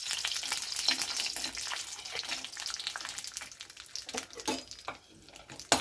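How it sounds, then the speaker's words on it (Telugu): Dry fruits fry in a spoonful of ghee in a pan, a bright continuous sizzle and crackle close by, with soft stirring scrapes that thin out toward the end and no talking. "ఇవి కొంచెం నేతిలో వేయించుకోవాలి."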